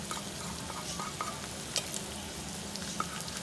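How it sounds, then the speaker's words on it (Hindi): Pieces of taro root (arvi) fry in oil in a pan with a soft, steady sizzle and crackle. An occasional light clink sounds against the pan. "ये देखिए इस तरह फ्राई कर लिया।"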